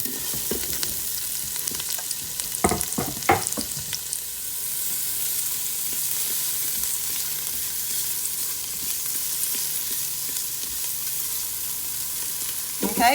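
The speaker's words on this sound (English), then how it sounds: "we're going to let that onion get just a little bit of color to it before we start adding our beans" Onion frying in an Instant Pot or Ninja cooker, a steady close hiss of sizzling oil with a few sharp stirring knocks near the start.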